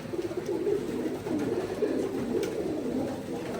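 A pigeon cooing close by in a loft, a low, soft, continuous rolling coo that lasts throughout.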